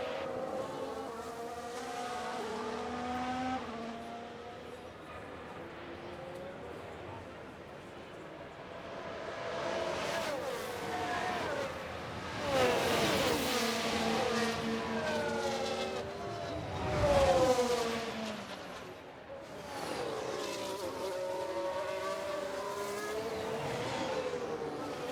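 Several race cars rev and whine past at a busy pit exit in the F1 Manager 2023 video game, their engine notes sweeping up and down in repeated passes at steady loudness.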